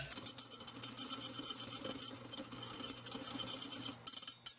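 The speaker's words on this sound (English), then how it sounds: "we're just going to whisk this together really well" Sugar, salt and flour whisked together in a bowl for a blackberry pie, with a quick continuous scratchy whirring of wire tines brushing through dry ingredients in rapid pulses, close and steady.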